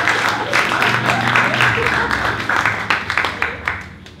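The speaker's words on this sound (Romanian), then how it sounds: "Să o aplaudăm pe Miruna Sâmbalonată Ilie." Audience applause at a pub talk event, a broad wash of clapping that stays fairly steady for about four seconds, with the odd sharper individual clap standing out near the end.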